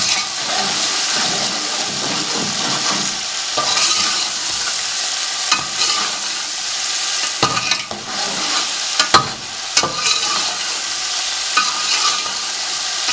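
Cumin, cloves and black pepper fry for a jungli pulao, producing a loud, hissing sizzle close up, interrupted by occasional knocks and scrapes of stirring, with a brief watery surge around the middle.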